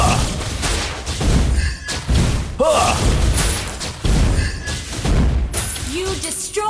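A turret is destroyed in the Mobile Legends video game, with crashing, shattering thumps and booms over a busy, loud mix of game effects and voices.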